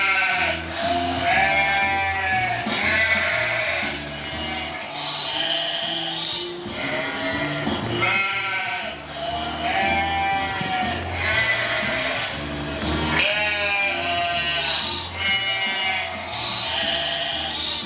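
Sheep bleat over and over in a steady rhythm at a pre-school annual sports meet, loud, wavering cries repeating throughout with a continuous musical backing beneath them.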